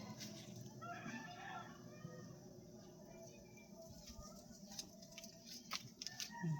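Faint chicken clucking and fowl calls in an outdoor setting, soft and somewhat distant, with light patter and ambient noise.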